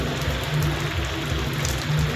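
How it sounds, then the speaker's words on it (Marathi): Heavy rain pouring down outdoors, a steady dense hiss with a low rumbling undertone that holds constant throughout, no voices. "आज खूप जोरात पाऊस चालू आहे"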